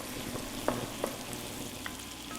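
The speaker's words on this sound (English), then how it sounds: "I want to saute these together for about 3 minutes in the oil until the garlic just slightly starts to darken." Ginger and garlic sauté in oil with a faint, steady sizzle, broken by a couple of light clinks of a utensil against the pan.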